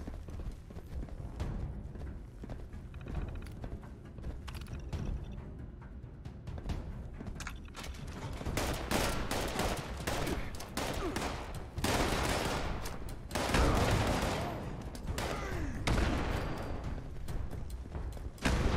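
Blind gunfire in Fallout 76 crackles in dense, sustained bursts of rapid shots, loud and close, with heavier volleys swelling midway and continuing to the end.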